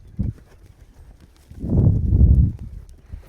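A horse lopes in counter canter around an arena. Its soft hoofbeats thud close by in an uneven rhythm, with a louder cluster of strides in the middle and quieter thumps before and after.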